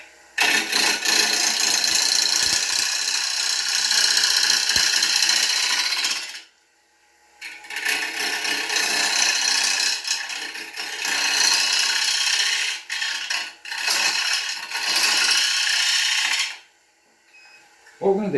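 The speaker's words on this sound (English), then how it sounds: "Let the lathe spin the wood, okay, and let the gouge cut it" Wood on a lathe is being turned into a bowl from a log with a 3/8 gouge, giving a loud, continuous, hissing scrape of the tool cutting the spinning wood in long passes, broken by two short pauses, close up.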